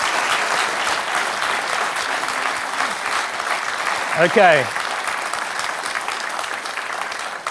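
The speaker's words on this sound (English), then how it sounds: "If you'd give them a round of applause" A television studio audience applauds after a panel debate, a steady broad wash of clapping throughout, with a brief spoken word and a short tonal sound partway through.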